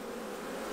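Honey bees buzzing at a hive while swarm cells are inspected, a dense continuous hum filling the short moment at steady loudness with no voices.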